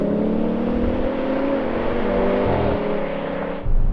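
A V10 BMW M5, an AMG E55 and an Audi RS6 accelerate hard side by side in a drag race, their engines roaring loud and steady with rising gear tones, ending in a brief low thump.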